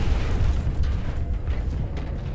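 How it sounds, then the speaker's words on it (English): An explosion aboard the Apollo 13 spacecraft, rendered as a deep sustained rumbling roar with low booming weight and a few sharper crackles riding on top. "Apollo 13 suffers a crippling explosion"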